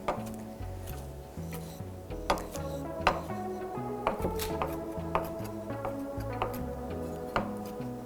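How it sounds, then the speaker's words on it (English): A knife chops fresh, washed cilantro on a board in a teaching kitchen, with a quick run of close, distinct taps that come irregularly over soft background music. "I'm going to chop a little bit of that up"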